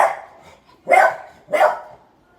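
A dog barks at something it has spotted, giving two loud, sharp barks about half a second apart after a fainter opening sound, close by with no talking.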